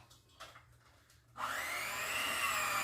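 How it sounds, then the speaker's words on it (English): A kitchen mixer beating New York style cheesecake batter starts after a few faint knocks, then holds a loud, steady whirring drone until the end. "Don't tell my daughter that I'm using her mixer."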